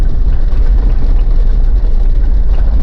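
A Mitsubishi Pajero engine with a stalling problem is under load while driving at about 40 to 50 km/h. It gives a loud, steady, deep rumble throughout, with no talking.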